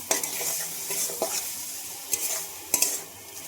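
Chicken and liver pieces stir-fried with potatoes and spices in a pan, a constant sizzle broken by repeated scraping strokes of a spatula and a few sharp clinks against the pan.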